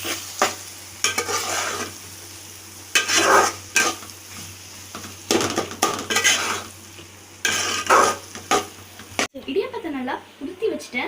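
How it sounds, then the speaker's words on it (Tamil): Egg being stirred and scraped in a pan while cooking idiyappam biryani, a series of loud bursts of spoon-on-metal scraping over a steady sizzle, with a brief quieter stretch near the end. "முட்டை வெந்துச்சு. இப்போ நல்லா கிண்டி விட்டுக்கலாம்."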